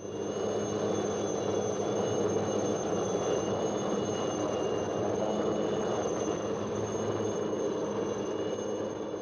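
Military helicopter flying on a resupply mission to a fort, a steady loud engine and rotor roar with a constant high whine, unbroken throughout with no voices.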